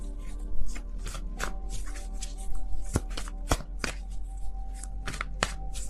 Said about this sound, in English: let's get into this for Leo